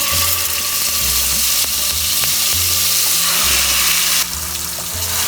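Masala paste sizzles in hot oil with cumin seeds, cardamom and cinnamon for a Bengali dhokar dalna, a loud continuous crackling hiss with a low bubbling rumble underneath.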